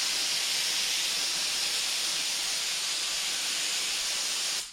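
Aerosol brake cleaner spraying in a garage during race-season prep, a continuous, close, loud hiss that runs steadily for several seconds and cuts off at the end.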